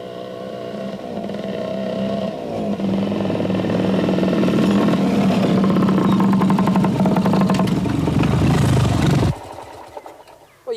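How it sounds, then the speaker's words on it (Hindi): Motorbike engine running nearby, a loud continuous rumbling drone that builds and holds for about nine seconds, then cuts off sharply. "यार ये तो उसी की मोटर बाइक है"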